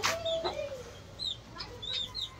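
Chickens at a backyard breeding setup, including an older hen and a black-feathered family, give a few short clucks and chirpy calls among quieter background bird sounds, with no talking.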